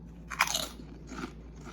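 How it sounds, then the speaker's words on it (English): Crisp crunches as someone bites into a crunchy homemade sour cream and onion potato chip, one sharp bite followed by a quieter second crunch, close and dry with no talking. "I'm going to bite into one of these just so you can hear how crunchy they are."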